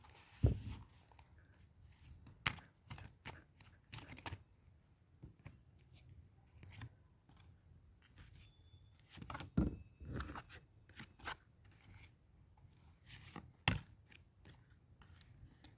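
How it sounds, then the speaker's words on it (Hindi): Tarot cards are shuffled and drawn by hand, producing scattered soft riffling and slapping bursts with quiet pauses between them. "चलो इसमें से हम 3 कार्ड निकालते हैं।"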